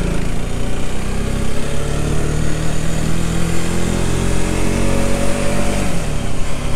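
A Rieju Century motorcycle engine drones loudly and steadily throughout, a rough buzzing rumble heard up close while riding in second gear on a dirt track, with no voices.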